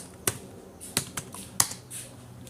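Sparse, light keystrokes on a computer keyboard while C code is entered, a handful of quiet isolated clicks with pauses between them and no talk.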